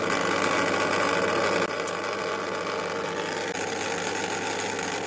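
A construction-site air compressor motor runs with a steady, close, buzzing mechanical drone and rapid rattle, stepping slightly quieter partway through as the motor and contactor cycle, with no talk over it.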